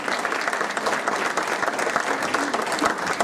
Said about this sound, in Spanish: José Woldenberg, claro que sí, pueden aplaudir.